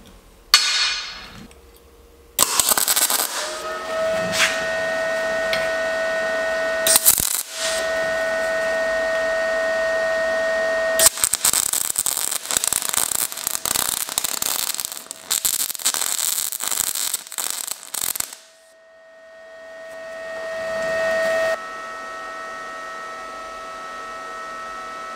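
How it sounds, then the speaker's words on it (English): An Arccaptain MIG250 welder running at 250 amps and 28 volts on 3/4 inch plate gives a loud, sustained crackling arc with a steady hum, broken by short pauses between passes. "I just want to weld it with its max power, which is 250 amps and 28 volts."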